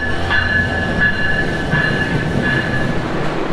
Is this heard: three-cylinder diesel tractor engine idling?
no